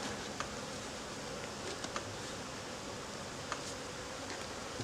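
Honeybees buzz at an open hive being checked for winter stores, a steady, dense drone with a few faint clicks and rustles from handling the boxes, filling the whole stretch without pause.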